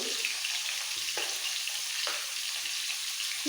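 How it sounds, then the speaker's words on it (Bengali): Potatoes frying in a pan with turmeric and salt give a steady, close, continuous sizzle with a few brief stirring scrapes, and no voices. "এবারে আলুগুলিকে লাল করে ভেজে নিতে হবে"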